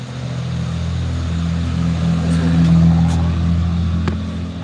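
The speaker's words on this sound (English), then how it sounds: "loud truck." A loud truck rumbles by nearby, its low engine drone swelling and easing over a few seconds and then slowly receding.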